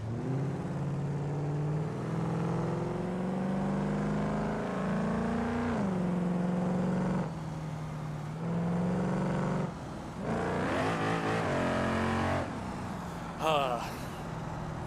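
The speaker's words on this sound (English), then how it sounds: "154 mile an hour in a beat-up cop car." A beat-up cop car in the BeamNG video game races at high speed, its engine droning steadily with shifting pitch and a few sharp revs, accompanied by talk.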